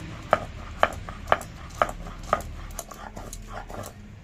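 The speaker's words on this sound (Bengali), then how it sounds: "এইবারে এর ভিতর এই রসুন কটা দিয়েও বেটে নেব।" Chili and garlic being ground into a paste, five sharp, evenly spaced knocks about half a second apart, followed by softer, quicker taps, close and clear in a quiet kitchen.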